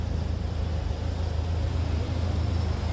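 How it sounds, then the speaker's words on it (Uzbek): A car engine idles steadily, a low continuous rumble with a faint hum, alone and unbroken throughout. "motori mana shu yurib turibdi mashina"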